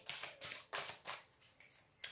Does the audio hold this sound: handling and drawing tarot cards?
yes